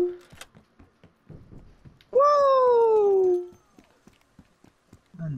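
A cat meows once inside the video game Call of Duty: Black Ops Cold War, a loud, drawn-out, falling cry of about a second and a half, standing out between quieter game sounds.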